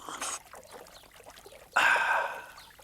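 Water poured into a drinking cup in an Afrikaans Heidi cartoon episode, heard as a brief trickle early on, then a louder, steady pour near the end.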